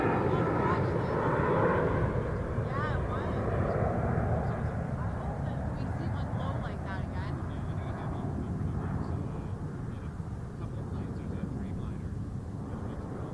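A fixed-wing airliner takes off from runway 23 at Toronto Pearson Airport, its engine roar loud and broad at first and then fading as it climbs away, with faint talk underneath.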